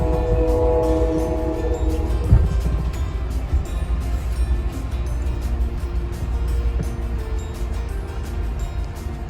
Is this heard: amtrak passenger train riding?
yes